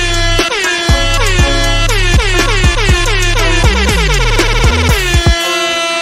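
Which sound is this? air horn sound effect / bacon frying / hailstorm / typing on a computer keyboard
air horn sound effect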